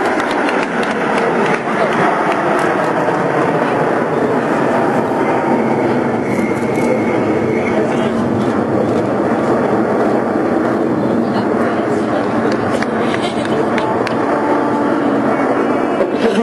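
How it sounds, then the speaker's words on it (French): Patrouille de France jet aircraft flying overhead in diamond formation at an air show, a loud, continuous roar that lasts throughout while an announcer speaks over it. "Maintenant l'avion qui ferme ce losange, c'est le commandant Cédric Tranchon à 12-4 qui occupe le poste de charognard"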